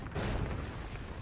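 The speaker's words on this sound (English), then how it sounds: "Cool guys, don't look at explosions." A nuke detonates in the video game Whack Your Boss 2, a loud, dense roaring blast that fills the whole moment without letup and with no voices over it.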